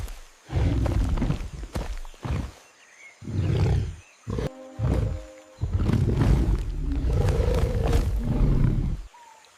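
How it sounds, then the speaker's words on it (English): A tiger roars in several loud, close bursts separated by short gaps, with a heavy growling texture that fills nearly the whole stretch. "This is a tiger."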